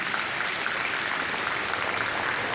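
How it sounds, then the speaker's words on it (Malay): An audience at an official Malaysian state ceremony in Melaka gives a loud, continuous roar of applause, dense and steady throughout, with no talking. "Hadirin hadirat, kita berikan tepukan cukup gemuruh."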